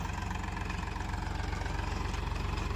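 A Powertrac tractor engine chugs steadily at idle nearby in a cotton field, a low rhythmic diesel thrum that holds constant throughout with no voices.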